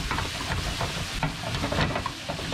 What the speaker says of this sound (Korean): 양념을 익히네요